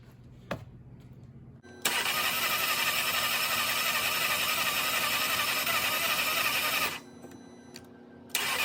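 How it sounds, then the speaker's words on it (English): A junkyard 2.4L MultiAir engine in a 2014–2019 Jeep Cherokee, running on a weak battery, catches on its first start and runs loud and close for about five seconds, then cuts off before briefly firing again. "Let's give it a first start."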